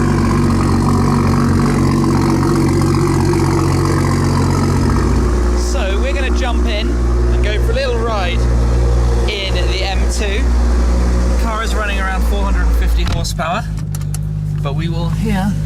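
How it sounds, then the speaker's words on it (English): Loud exhaust note from a performance car idling nearby, a constant heavy rumble that drops in pitch partway through while people talk over it and a few clicks and rattles sound close by. "So no holding back on the exhaust sounds."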